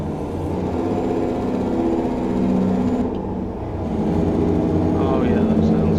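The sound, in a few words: truck engine brakes in tunnel, video game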